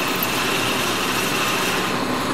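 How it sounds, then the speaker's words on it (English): Hole saw cutting through a workpiece while making elevator parts, a continuous harsh grinding rasp held steady and loud at close range, without speech. "Oh, these hole saws work."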